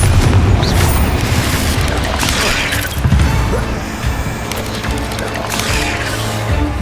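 A Confringo blasting spell detonates in Hogwarts Legacy, a loud booming blast with crashing debris that stays dense and sustained for several seconds, alone without talk.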